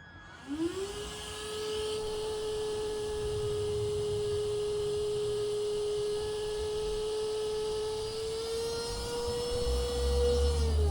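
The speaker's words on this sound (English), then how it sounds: "Now for the Etenwolf compressor. The airflow of this compressor is about 42 litres a minute" An Etenwolf Vortex S6 battery tyre inflator compressor whirs up and runs steadily at a close, constant pitch for the whole stretch, with a small bump at start-up and no one talking.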